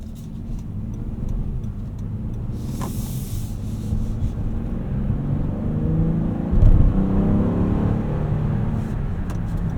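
The 3.5-liter V6 in a 2026 Honda Odyssey Elite hums along while driving, a steady low engine and road rumble with rubbing cabin noise and a brief thump partway through.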